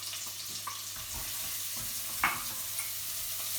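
Chopped onion sizzles and fries in a pan for a Moroccan stew, a steady crackling hiss with occasional stirring and scraping sounds, close and fairly quiet.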